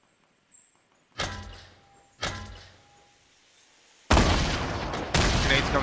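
Gunfire in the Fortnite video game: a few sharp, separate shots with short decaying tails, then a dense, loud burst of sustained fire close by.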